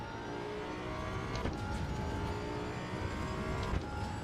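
A Datsun 240Z engine in the Assetto Corsa EVO racing game drones steadily at moderate, fairly quiet level, with a slight rise in revs and faint whirring throughout.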